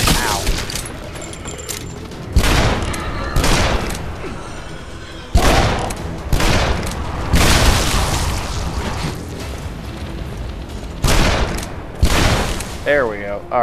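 Revolver gunfire in the 2013 video game Shadow Warrior: loud, booming shots fired at irregular intervals, each with a lingering rumble, over continuous game noise.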